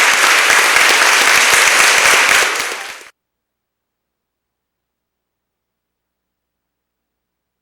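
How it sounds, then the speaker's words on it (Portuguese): An audience gives a professor a standing ovation at a 60th-anniversary ceremony for a university social work program, with loud, dense clapping for about three seconds that stops abruptly into silence. "nós não podemos deixar de registrar e aqui aplaudir de pé a professora Maria das Dores Costa"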